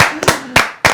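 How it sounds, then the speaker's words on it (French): Three sharp, loud hand claps spaced roughly a quarter second apart, close by, with no talking. "Ah, on applaudit très fort."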